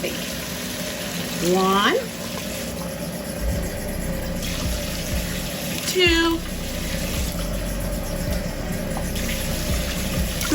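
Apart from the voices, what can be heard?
pouring water into Instant Pot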